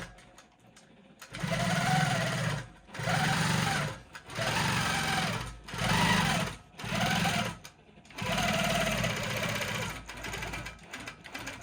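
A longarm quilting machine stitches straight ruler-guided lines on a quilt-as-you-go quilt, running in about six even bursts with short pauses between, loud and close with no talking.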